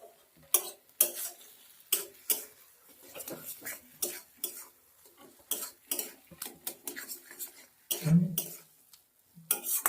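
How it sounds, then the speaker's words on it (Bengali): Cauliflower with garlic and dried chili is stirred in a pan, a string of sharp, irregular spoon scrapes and clacks against metal over a faint sizzle, close and uneven, with a voice speaking briefly. "একসঙ্গে সব কিছু একটু ভালো করে ভাজা ভাজা করে নেবো আবার"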